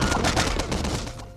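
Dense, continuous rapid gunfire from a retro video game, loud and close, with overlapping shots that fade slightly at the end.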